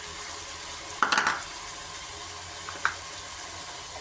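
Mixed vegetables sautéing in a pan for veg biryani: a steady low sizzle throughout, broken by a short burst of clanking spoon-against-pan stirring and one more brief clink later.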